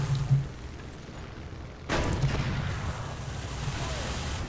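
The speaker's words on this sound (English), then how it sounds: "Explosions going off in the distance." Distant explosions in the War Thunder tank game on a Normandy map, a faint thud early on and a sharper boom partway through, followed by low rumbling battlefield ambience.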